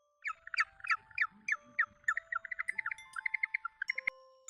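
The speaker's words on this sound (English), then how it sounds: "penguin," A penguin calls with a quick series of harsh squawking notes, rising into a rapid braying run before stopping, clear and fairly close with no talking.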